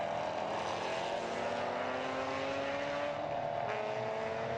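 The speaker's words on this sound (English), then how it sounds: "Oh, and another one. That's E-Type fixed head with Didier Robin and Arnold Robin." A Jaguar E-Type fixed head racing car roars past at a classic motor race at Estoril, its loud engine note filling the whole clip, with the pitch gradually shifting as it goes by.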